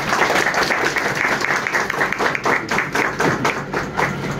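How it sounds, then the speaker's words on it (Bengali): An audience at a film institute screening Q&A gives a loud round of applause for a guest, dense steady clapping close by that thins into separate louder claps toward the end. "জন্য একটা জোর হাততালি হয়েছে।"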